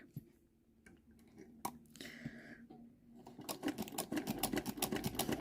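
Vintage Singer sewing machine stitching through felt, a soft mechanical patter that starts sparse and builds into a fast, steady run of needle strokes toward the end, close up with no talking.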